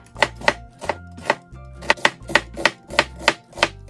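An onion being chopped with a knife on a cutting board, about a dozen crisp, close knocks in a quick, slightly uneven rhythm, heard alone without talk.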